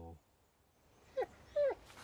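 A dog in the video game Alan Wake lets out two short, high whimpers close by after a quiet stretch, the second slightly longer, with faint background ambience.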